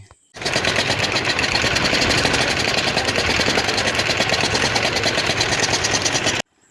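A crowded river ferry boat's engine chugs loudly and steadily on the crossing toward Mayapur, a continuous close mechanical drone with a rapid rhythmic knock that runs unbroken before cutting off abruptly.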